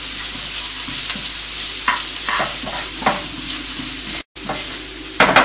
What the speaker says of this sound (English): And now I am adding onions.